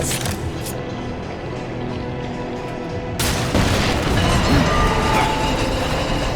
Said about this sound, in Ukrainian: Так, треба постріл зробити по бомбі.